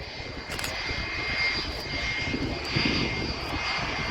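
A distant Delta Airlines Airbus A330-200 jet airliner drones overhead near Manchester Airport with a steady, faint roar that swells slightly and fades, heard with no talking.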